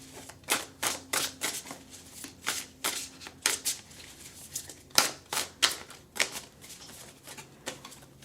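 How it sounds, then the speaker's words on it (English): Star Tarot cards shuffled by hand in a steady series of crisp, riffling bursts, close and fairly quiet, with no talking. "Shuffle, shuffle, shuffle."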